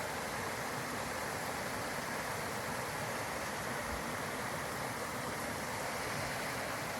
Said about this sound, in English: Lots of little rapids.